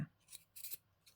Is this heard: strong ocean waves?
no